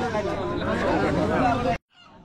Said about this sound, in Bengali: তার আগে আপনাদের একটু হাঁস মুরগির বাজারটা দেখাই।